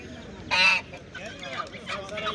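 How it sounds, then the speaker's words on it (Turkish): Geese honk at an outdoor poultry market. One loud, close honk is followed by softer, ragged honks and cackles from the flock, with faint background voices. "Gazlar var ama sahibi yok gazların."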